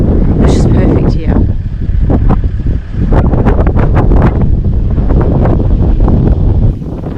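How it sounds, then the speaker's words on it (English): Morning wind at Kalbarri buffeting the microphone as a loud, continuous rumbling roar, with a voice speaking briefly beneath it. "there's a little bit of wind this morning, but it's just starting to die off again"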